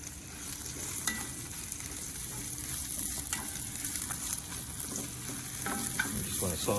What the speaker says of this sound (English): I'm gonna saute some of the mushrooms that are gonna go on the pizza.